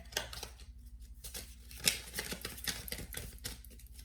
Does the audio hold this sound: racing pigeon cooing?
no